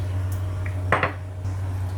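Pancit noodles are stirred in a pan, giving a brief clink and scrape of utensil on metal around the middle over a steady low kitchen hum, close and short, no talk.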